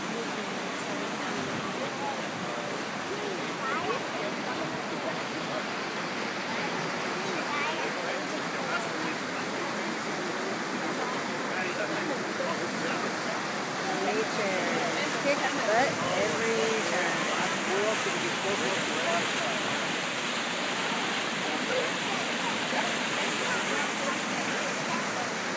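Waterfall pouring during a flash flood in Zion National Park, a steady broadband rush of falling water that holds level throughout, with faint voices at times beneath the roar.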